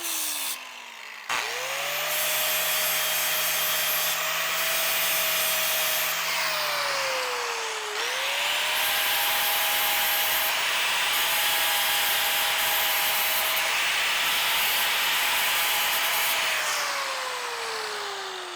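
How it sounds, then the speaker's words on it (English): An angle grinder fitted with a flap disc grinds the edge of a steel front sway bar bracket on a BMW E39 M5, running loud and steady with the motor pitch sagging under load, then spinning back up before more continuous grinding. "a grinder with flap disc"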